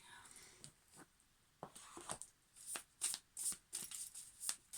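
Tarot cards are moved around and shuffled, quick crisp riffles and soft slides coming in close bursts that grow busier toward the end, with faint talk underneath.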